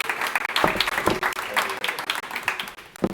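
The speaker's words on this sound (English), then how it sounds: "let's give you another round of applause" Scattered applause from a small audience at a community event, uneven individual claps building and fading over a few seconds, fairly faint and close, with some talking mixed in.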